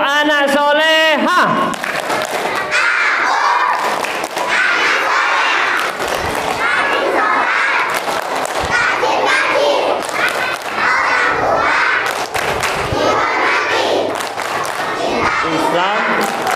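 A crowd of girls performs a rhythmic clapping chant, loud unison shouting mixed with claps and thuds; a single voice leads briefly at the start before the group joins in loudly.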